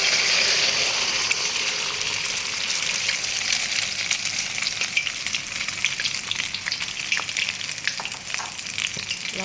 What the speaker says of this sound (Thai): กระทะร้อนแล้วค่ะ น้ำมันก็จะเยอะนิดนึงนะคะ ควันขึ้นแล้วค่ะ ควันลอยแล้ว ใส่ไข่ลงไปเลยนะคะ